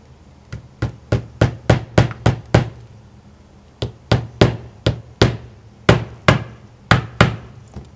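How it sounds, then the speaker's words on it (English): Drywall nails hammered into wood to fasten a leather strop: sharp, close metallic blows in two quick runs of about nine and eight strikes, each loud and clean with no talking. "I'm going to be using nails, so I will go ahead and nail it down"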